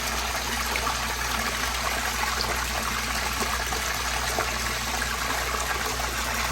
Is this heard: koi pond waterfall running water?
yes